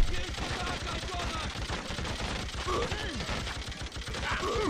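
Rapid gunfire crackles throughout a Freedom Fighters game firefight, dense bursts of shots mixed with mechanical clatter, with some voice-like sounds and effects underneath.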